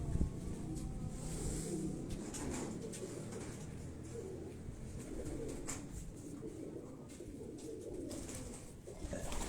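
Pigeons kept by a fancier coo in soft, low, repeated murmurs at close range, forming a steady gentle chorus over light background noise.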